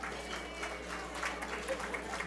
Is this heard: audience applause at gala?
yes